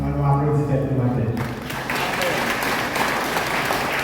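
A church congregation breaks into applause at a morning worship service marking a birthday. Singing or sustained voices fade out at the start, giving way to steady, dense clapping from the crowd.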